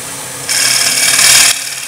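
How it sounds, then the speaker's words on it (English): A negative rake scraper cuts wood on a turning lathe, giving a bright, steady scraping hiss that starts abruptly, holds for about a second and stops, over a low motor hum. "The negative rake scraper, you will find, is a dream to use."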